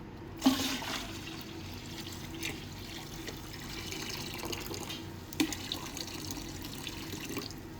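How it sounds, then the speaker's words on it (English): Used electrolyte from a silver refining cell is poured into a storage pail, making a splashing gush of liquid at the start, then a quieter trickle with a second small splash later. "I'm just going to pick the cell up and dump the used electrolyte right into this pail that I used to store this stuff."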